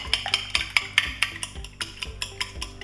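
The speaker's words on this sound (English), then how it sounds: "I'm also going to add some vanilla extract and cinnamon and whisk it up really well" A whisk clicks rapidly against a bowl, beating egg, milk, vanilla and cinnamon in a quick, steady rhythm of about a dozen crisp strokes, close and alone.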